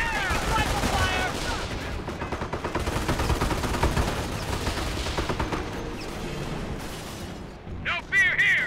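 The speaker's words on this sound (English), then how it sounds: "Rifle fire!" Rapid crackling rifle and machine-gun fire in Company of Heroes, sustained and loud, with shouting soldiers over it and a voice near the end.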